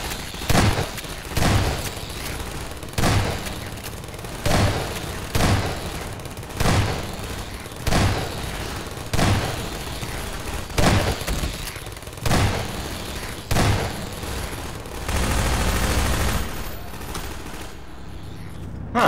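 Automated turret gunfire in Half-Life 2 Episode Two, loud regular bursts roughly every one and a half seconds, close and punchy, followed by a longer rushing blast near the end.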